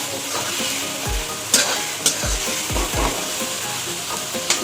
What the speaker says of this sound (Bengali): মাছের ঝোল ভালো মতন ফুটে উঠেছে